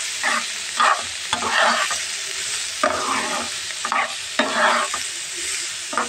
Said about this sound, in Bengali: এখন এটা সুন্দর করে নেড়ে চেড়ে আমি ঢেকে দিব